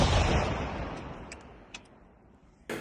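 A heavy barrel artillery gun fires, the blast booming and rumbling away over a couple of seconds, followed by faint ticks and a sharp knock at the end.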